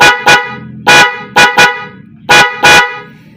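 A car horn honks five times in short and paired bursts, loud and close, with quiet pauses between the blasts.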